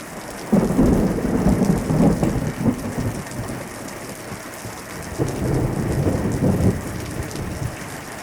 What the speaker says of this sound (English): That's the sound of rain.